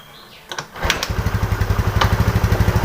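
A carbureted Yamaha Mio Sporty scooter engine catches after a few clicks and knocks, then runs with a loud, close, evenly pulsing putter that steadies into a fast idle.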